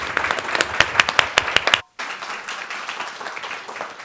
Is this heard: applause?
yes